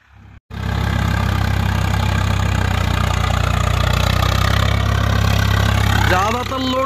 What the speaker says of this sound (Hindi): ज्यादातर लोड तो भाई घुमाते टाइम ही ले रहा है ट्रैक्टर।